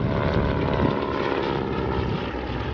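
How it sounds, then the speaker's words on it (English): A Yak-18 propeller aircraft flies at an air show in Vanderhoof, British Columbia, its engine giving a loud, steady, rumbling drone that stays close and continuous throughout. "the Yak 18, that's a pretty sizable aircraft"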